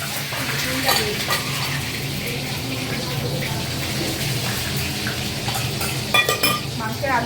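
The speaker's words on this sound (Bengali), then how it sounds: "মাংসের আলুগুলো ভেজে নিচ্ছি।" Potatoes frying in a pan for a mutton curry, with a continuous sizzle broken by utensil scrapes and clinks against the pan, close and fairly loud, with no speech.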